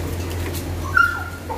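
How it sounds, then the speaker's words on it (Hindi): A female pitbull gives a brief whining yelp, near and moderately loud over a low steady hum. "वो अपने बच्चों के लिए भौंक रही थी"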